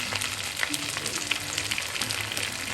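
Chicken drumsticks deep frying in oil make a continuous bubbling sizzle with light crackles and occasional soft clinks, heard close and steady with no talking.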